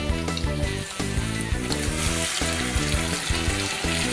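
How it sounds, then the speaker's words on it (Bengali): A paste of onion, garlic, ginger and chili is frying with salt and turmeric for a Bengali chicken curry, a continuous sizzle running under loud rhythmic background music. "পেঁয়াজ রসুন আদা লঙ্কা বেটে রেখেছিলাম সেই বাটাটা তার সঙ্গে নুন হলুদ একসঙ্গে দিয়ে কষিয়ে নেব"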